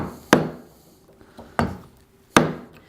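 A chisel struck into wood while chopping out a dovetail joint gives three sharp, close knocks spaced about a second apart, each ringing briefly, with a softer tap between them.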